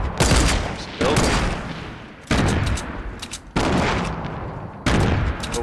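Sniper rifle shots ring out in the video game Fortnite, with four or five sharp, loud cracks about a second apart. Each crack has a long fading tail, and no voices are heard.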